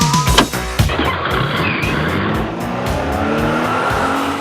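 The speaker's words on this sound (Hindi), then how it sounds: "और अब हम निकल चुके हैं फोर्ड एंडेवर ऑटोमेटिक के सफर पर" Ford Endeavour automatic SUV driving along a road, a steady loud engine and road roar with tire noise throughout, a couple of sharp bumps near the start, no voices.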